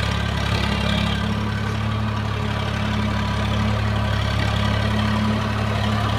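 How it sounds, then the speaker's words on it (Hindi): A Swaraj 742 FE tractor works a field with a rotavator digging deep, its diesel engine a steady loud rumble with constant low drone throughout. "सुराज ट्रैक्टर आता हुआ,"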